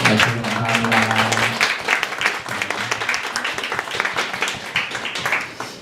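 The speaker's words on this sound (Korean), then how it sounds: "우리 환영의 박수 한번 하도록" A church congregation applauding to welcome parents at a Sunday service, a dense burst of many hands clapping that starts loud over a held musical tone, then thins and fades out.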